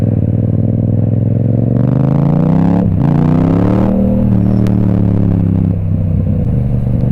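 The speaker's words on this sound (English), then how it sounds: "Oh look, there's another MT-07." A Yamaha MT-07 motorcycle rides past on a road, its loud engine note rising and falling as it accelerates through the gears, close by with no talking.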